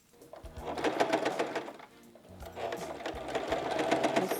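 A sewing machine backstitches fabric near the tip of a collar in two close bursts of rapid mechanical whirring and needle clatter, separated by a brief slowdown, with low thumps as the stitching reverses.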